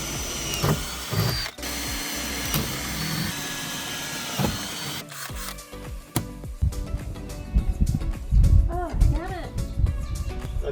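A power drill whirs steadily for several seconds, then stops, followed by clattering and a voice talking nearby.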